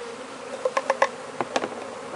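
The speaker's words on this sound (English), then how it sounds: "got my sample of nurse bees" Honey bees, nurse bees shaken into a sample cup for an alcohol-wash varroa mite check, buzz close by, with a faint steady hum and a series of short, sharper buzzing bursts.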